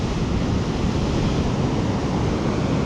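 Ocean surf rolls onto a beach at Moruya on the New South Wales south coast, a loud, continuous broadband wash of breaking waves with no talking.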